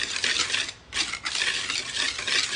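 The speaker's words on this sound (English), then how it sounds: "So now real quickly with my flour, sugar, I'm just going to stir it a little bit." Flour and sugar being stirred together in a bowl while making a mixed berry cobbler, a close, steady scraping and brushing of a utensil in bursts with a short pause midway, no talking.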